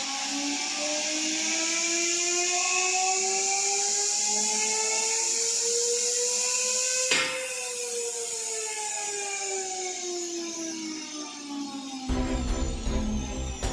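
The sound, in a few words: cutting disc test machine spinning up to speed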